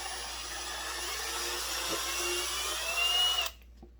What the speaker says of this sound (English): This is not an impact, this is a drill.